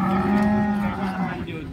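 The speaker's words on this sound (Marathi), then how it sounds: "सय्यद वरवडची गाय आहे" A dairy cow moos at a village cattle market, one long, loud, close bellow that tails off, with faint background noise.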